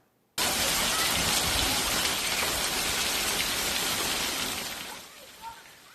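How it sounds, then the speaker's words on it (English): Heavy rain pouring down in Lakewood as a downpour sweeps through the Denver metro area, a dense, loud, steady roar that starts abruptly and eases off slightly near the end. "9 News viewer Carly Moore caught it dumping in Lakewood today as heavy rain moved through"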